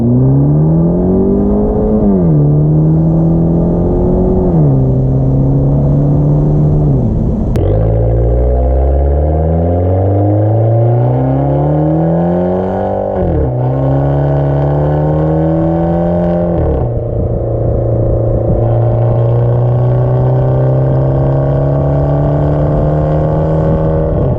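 A Fiat 500c Abarth engine revs up repeatedly in manual mode, its pitch climbing and dropping as gears shift, loud and close throughout with no voices.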